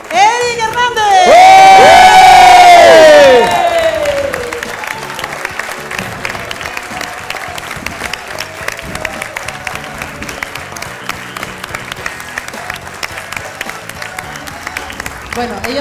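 A theatre audience bursts into loud applause and cheering at the close of a comedy show, peaking sharply for a few seconds then tapering into lighter scattered clapping and crowd murmur for the rest.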